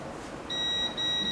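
A multimeter in continuity mode beeps while probes trace connections on an MTK phone board with a charging fault, giving two steady high tones with a short gap between them against quiet room noise.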